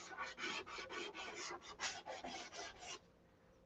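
A model aircraft wing being sanded by hand, a steady run of rapid, rasping back-and-forth strokes close up for about three seconds before it stops, with no talking.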